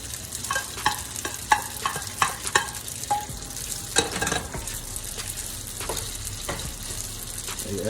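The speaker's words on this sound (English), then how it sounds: "Now take your sauteed vegetables. Go ahead and mix that in as well." Sauteed vegetables being stirred and folded into homemade fettuccine alfredo in a hot pan, with a steady sizzle and repeated scraping, clacking stirs spaced irregularly throughout.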